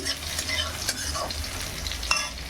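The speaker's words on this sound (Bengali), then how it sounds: "রসুন আর লঙ্কা কালো জিরে ফোড়ন দিয়েছি" Garlic, chilli and black cumin sizzle and crackle steadily in hot oil in a pan, a close, continuous frying hiss with occasional sharper pops and light stirring.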